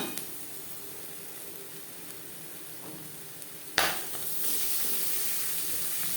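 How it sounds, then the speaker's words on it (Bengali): Onions fry in a pan for a banana-stem (thor) bhaja, a soft steady sizzle that swells suddenly as more goes in near the four-second mark, then stays louder and even with no voices. "পেঁয়াজ অবশ্যই লালচে করে ভেজে নিতে হবে, নাহলে ঠিকঠাক টেস্ট আসবে না।"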